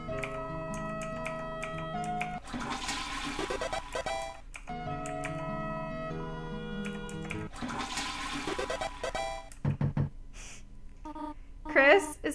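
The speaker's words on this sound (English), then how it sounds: "Flush the toilet!" A toilet in Deltarune flushes twice in succession, each a loud rushing gurgle of water cutting over cheerful game music, followed by brief chimes.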